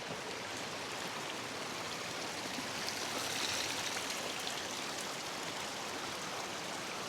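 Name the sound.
stream of water flowing from rock near Kenyan waterfall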